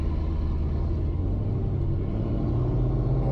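2020 Dodge Challenger Scat Pack fitted with a ProCharger supercharger, heard from inside while cruising: a steady, deep engine rumble with road drone, close and fairly loud, no rise in revs, no voices.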